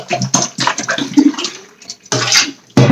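Water pours in short splashy bursts into a bottle holding grapefruit flavoring, a close, gurgling fill that stops and starts several times.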